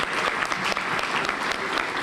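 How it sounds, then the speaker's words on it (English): An audience at a donor appreciation banquet applauds three students, a full and even wash of clapping that holds steady from start to finish. "Can you give all 3 of those students another round of applause?"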